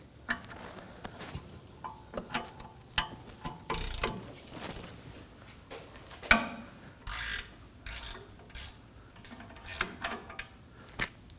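Close ratchet clicking as a socket spins a nut off the rear knuckle of a 2017-2024 Nissan Armada, coming in short, uneven bursts with brief gaps and an occasional sharper metallic knock.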